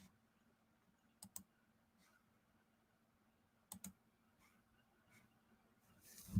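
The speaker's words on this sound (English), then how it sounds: "All right, let me keep typing these names." Typing on a computer keyboard comes as a few faint, sparse bursts of quick clicks with quiet gaps between them, ending with a louder clatter.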